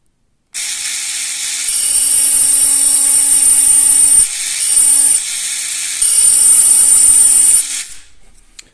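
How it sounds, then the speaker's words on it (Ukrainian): A Parkside cordless engraving tool running at its top speed setting on stone, glass or metal, a loud high-pitched steady whine with two short breaks before it stops. "на третій швидкості або на максимум, дійсно, ми бачимо добрий результат роботи гравіральної машинки"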